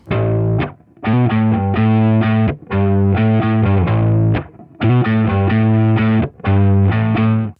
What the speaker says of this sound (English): we went for a pretty saturated tone on the live amp